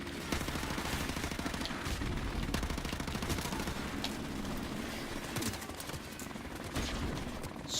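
Rapid shotgun blasts and surrounding gunfire in the video game Modern Warfare Remastered, dense, continuous bursts of shots with little pause between them.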